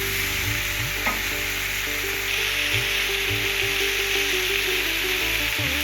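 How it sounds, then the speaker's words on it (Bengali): Salted vegetables for shukto hiss and sizzle in a frying pan as they are stirred, a steady close frying noise with occasional spatula scrapes over a constant low hum. "সবজিগুলোর সঙ্গে ভালোভাবে মিশিয়ে নিয়ে আমি একটু নাড়িয়ে দিচ্ছি।"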